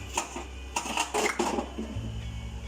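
A metal pan is clattered onto a stovetop to heat while masala idli is being made, with a few loud clanks and knocks of cookware over a couple of seconds, followed by a low steady hum.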